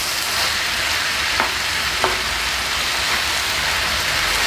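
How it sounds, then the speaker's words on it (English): Food fries in oil with a dense, even sizzle like steady rain, loud and close, with a couple of faint spatula taps while it is stirred and no talking. "Let's mix that up again."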